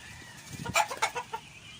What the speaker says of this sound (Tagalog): Tapos ito yung mga palahing manok, pang sabong.